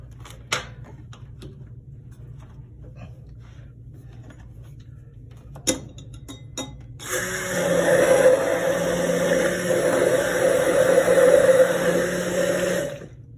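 An electric mixer starts after some light clicks and taps, then runs for several seconds with a loud, steady whirring buzz as it blends keto brownie ingredients in a narrow container, before stopping abruptly.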